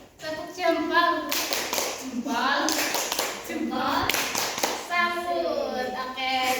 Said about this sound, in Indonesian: Tepuk jempol untuk kelompok 1.